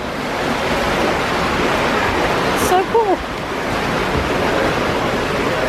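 An indoor fountain in the Wilderness Lodge lobby sends water flowing beneath a bridge, a steady broadband rush that fills the space while a voice briefly comments over it.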